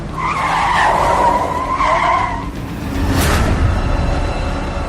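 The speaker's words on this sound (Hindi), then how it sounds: "कार स्टार्ट की और जयंत ने गाड़ी को हवाई जहाज बनाकर दौड़ा दिया" A car speeds off with its tires skidding and squealing, and a loud engine roars close by. A sharp squeal rises, fades, then returns amid rushing road noise.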